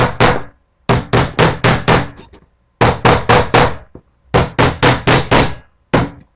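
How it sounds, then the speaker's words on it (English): Loud, sharp hammer blows driving a lid onto a paint can, struck in quick bursts of four or five, separated by short pauses, with nothing else audible. "hammer this in real quick"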